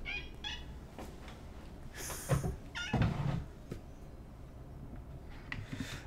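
A pet cat meows and whines several times in short, plaintive bursts over a noisy indoor background, fairly close but not loud.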